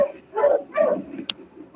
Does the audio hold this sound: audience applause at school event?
no